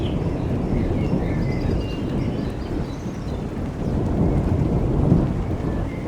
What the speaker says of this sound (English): I think the storm's coming towards us.